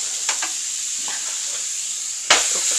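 Meat frying in a pan gives off a loud, steady hiss and sizzle with a few scraping stirs, and a sharp burst of crackle comes near the end.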